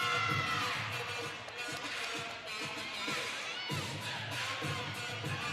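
Crowd cheering at a gymnastics meet, a diffuse arena roar of shouts and applause that swells and dips continuously, with an announcer's voice faintly present.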